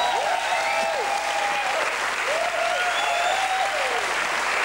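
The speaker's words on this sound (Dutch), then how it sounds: "Uw applaus voor onze hoop in bange dagen." A studio audience on a Flemish television comedy show applauds in a loud, sustained wash of clapping that holds steady from start to finish.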